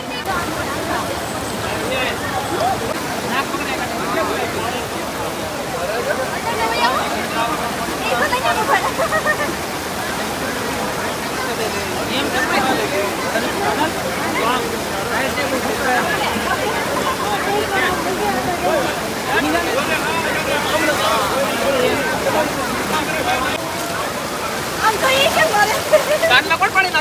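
The Ganga flows at a bathing ghat in Haridwar with a constant, loud rush of water, while voices talk and call nearby throughout.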